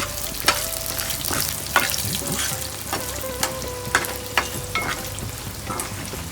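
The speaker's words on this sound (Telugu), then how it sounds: "చింతపండు కూడా ఇందులో వేసుకొని వేయించుకోవాలి" Onions and tamarind fry in a pan with a steady sizzle, broken by several sharp scraping stirs of a spoon against the pan, close and fairly loud.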